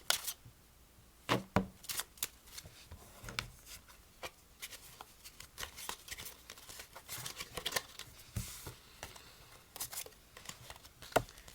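A spectator shuffles a deck of playing cards, giving quiet, scattered riffles and snaps in irregular bursts, close by but faint.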